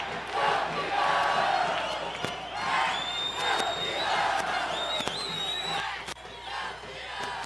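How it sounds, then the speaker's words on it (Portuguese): Football fans in Mirandão stadium roar and shout during a Campeonato Tocantinense final, with whistles and sharp bangs rising out of a dense, distant crowd din in waves. "o torcedor já grita!"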